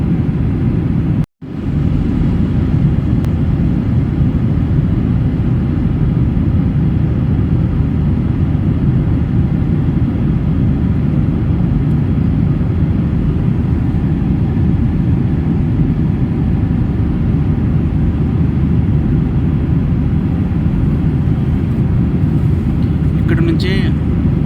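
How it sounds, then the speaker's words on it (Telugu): Cabin of an Oman Air flight from Muscat to Hyderabad, cruising over the Western Ghats, fills with a loud, constant engine and air roar that briefly drops out near the start, then holds unbroken. "ఇప్పుడు నేను మస్కట్ నుంచి హైదరాబాద్ వచ్చే ఫ్లైట్లో ఓమన్ ఫ్లైట్లో ఉన్నాను"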